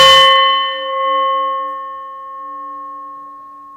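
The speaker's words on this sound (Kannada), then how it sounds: "ಈ ರೀತಿಯಾದಂತಹ ಜಯಗಂಟೆಯನ್ನು ಒಮ್ಮೆ ತಾಟನ ಮಾಡೋದು" A jaya ghante, a temple ritual bell used in puja, struck once, giving a sharp metallic clang that rings on with a long, clear, slowly fading tone.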